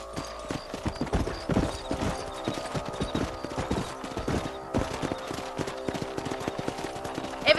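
Horse hooves clip-clopping on a ranch in the Western video game Red Dead Redemption, a brisk irregular rhythm of close hoof strikes running throughout, with a brief neigh and faint game sounds.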